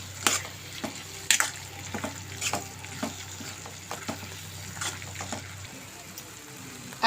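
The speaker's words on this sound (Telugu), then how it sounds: "దాని ఇలా కలబెట్టుకుందాం" Chilli powder is stirred into a pan of frying drumstick curry for a drumstick and small fish dish: soft, continuous sizzling with repeated scraping strokes of a spoon, fairly quiet and close.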